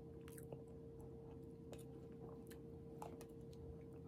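Soft, sticky chewing of a chewy, slightly crisp pastry-style yakgwa, a honey-soaked Korean cookie with cinnamon, heard close up with faint moist clicks and squishes over a low steady background hum.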